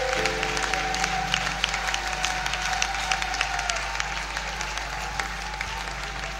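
A church congregation claps together in sustained, dense applause during a worship service, steady and fairly distant with a low hum underneath.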